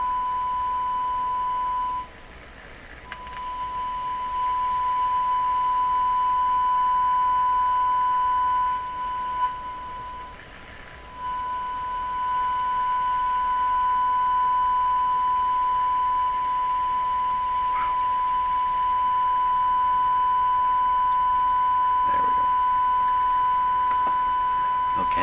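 Steady pure test tones from a signal oscillator while a Canadian General Electric JK-53 radio is being aligned, a loud continuous whine with a second fainter tone above it, briefly dropping out twice, over a soft hiss of static.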